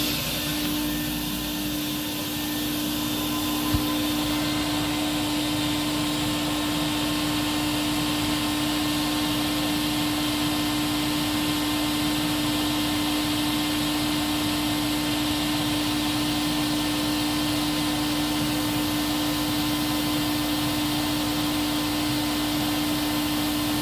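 A Silver King 73B2 vacuum cleaner runs steadily for an airflow test, its motor giving a loud, constant whine and drone with no talking over it.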